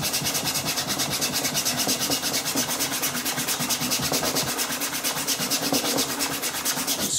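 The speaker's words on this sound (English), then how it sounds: "Get yourself a dollar store brush and give it a good scrub." A cheap plastic brush scrubs a tablet cover in fast, rhythmic back-and-forth strokes, a steady close-up bristly rasp throughout with no talking.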